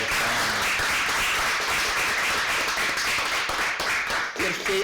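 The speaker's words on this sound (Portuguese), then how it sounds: "Então merece uma salva de palmas" Audience applause during a Portuguese-language education podcast, a steady dense wash of clapping that fills the whole stretch at an even level, with faint voices underneath.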